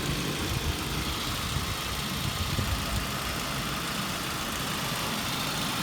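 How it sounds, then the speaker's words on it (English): A 2003 Saab 9-5 with the 2.3t engine idling, a steady, even rumble with a faint fast valve-train ticking woven through it, recorded close by a phone with no voices. "My phone does pick up the small engine noise, so you'll hear the valve train noise."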